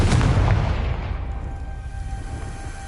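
A Confringo spell explosion in a video game: one loud, deep boom at the start, followed by a long rumbling tail that slowly fades away.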